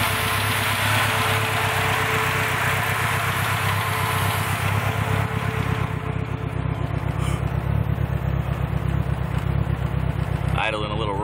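A Lamborghini Diablo engine idles steadily and a little rich just after first startup on a new setup, a loud, continuous droning rumble with fine vibration, a faint voice briefly audible near the end.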